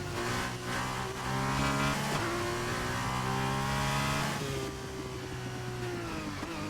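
A Formula 2 race car in a sim racing game at a Great Britain race leaves the track and runs through the runoff. Its engine gives a steady, loud, buzzing drone, with the pitch dropping and resetting twice. No one speaks.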